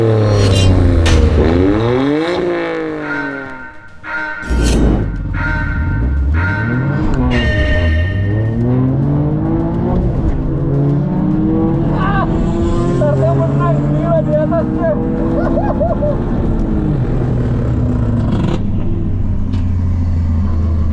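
Toyota GR Yaris and GR Yaris rally car engines revving at the Mandalika circuit, loud rising and falling engine roars with rumbling exhaust, up close, while a voice talks over them at times.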